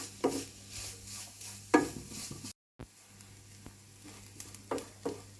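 Grated coconut and onion are sautéed in a pan for a bitter gourd masala curry, with a faint sizzle under intermittent scraping stirs of the spatula, broken by a brief silent gap.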